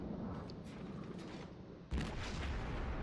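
Warship guns firing in World of Warships, a continuous rumble of distant booming salvos that jumps louder with a heavy blast near the end and keeps roaring.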